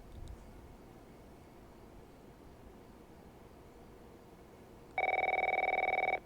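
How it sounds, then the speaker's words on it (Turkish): A telephone in The Last of Us video game starts a single loud, steady electronic ring after several seconds of quiet hiss, lasting a little over a second. "Telefon çalıyor."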